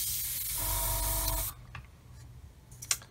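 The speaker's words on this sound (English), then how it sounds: "Maybe my airbrush needs a proper clean." An airbrush sprays paint onto the missiles of a Meng 1/35 9K37M1 BUK model kit, a loud close hiss lasting about a second and a half, followed by quiet with faint small clicks.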